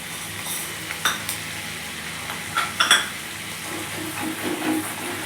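Raw peanuts frying in hot oil in a pan while pulihora is made, with a low steady sizzle, a few sharp clinks and scrapes of a spoon against the pan, and louder crackling bursts near the end; no one speaks.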